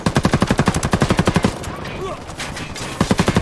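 Video game shootout with rapid automatic gunfire in loud, evenly spaced bursts, breaking off into a quieter stretch of scattered noise before another burst of shots closes it out.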